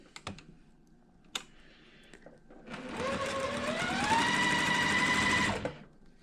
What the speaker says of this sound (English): we're going to stitch right on that line